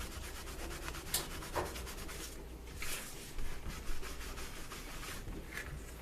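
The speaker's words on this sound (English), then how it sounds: "you just take a cloth and buff that off of there" A cloth buffing excess dye from the surface of a piece of leather, with steady close rubbing strokes and a few sharper swipes, carrying on alone without talk.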